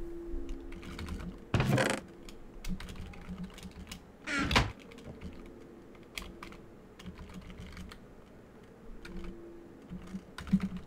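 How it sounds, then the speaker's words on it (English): Someone types on a computer keyboard in quick, irregular bursts of clicks, fairly close and quiet, with a few louder knocks. "You're doing a lot of typing."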